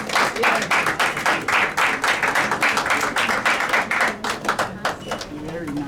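Audience clapping and applause at a United Nations side event comes as rapid, fairly close hand claps in an uneven rhythm, with voices talking and cheering over it throughout.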